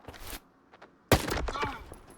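Gunfire from a Kharod rifle in the STALKER 2 video game: a sharp, loud shot with a ringing tail follows a quieter pause, preceded by softer earlier reports.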